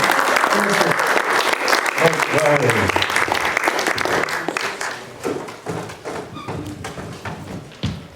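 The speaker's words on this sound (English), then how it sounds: "Give a round of applause." A festival audience gives a film director a loud round of applause that trails off into scattered claps. Someone speaks over it near the start.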